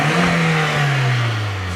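A Volkswagen Polo with an injection engine revs as it accelerates, a steady mid-pitched engine drone whose tone slowly falls over a couple of seconds, loud and close with no talk.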